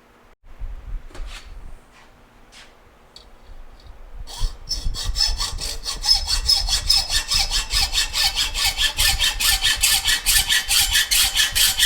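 A metal part for a motorcycle bracket on a Yamaha AT-2 MX build is sawn through by hand, a few tentative strokes giving way to steady, rapid, rhythmic rasping strokes that grow louder and continue without pause.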